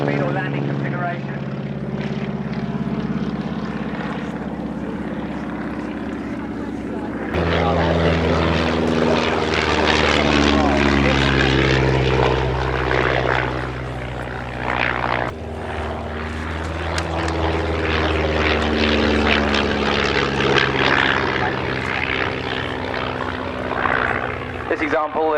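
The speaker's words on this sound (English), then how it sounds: "So slow pass now, ladies and gentlemen. A little bit of side slip on and his flaps down." A propeller-driven trainer aircraft, a former Elementary Flight Training School machine, makes a slow pass in landing configuration with flaps down and side slip applied, its steady engine drone swelling louder mid-pass and holding, with a commentator talking over it.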